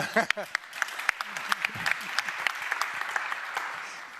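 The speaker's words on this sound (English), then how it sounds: "That's a very shy applause." Applause from an audience, light and scattered at first, then filling into steady clapping, with a voice briefly audible at the start.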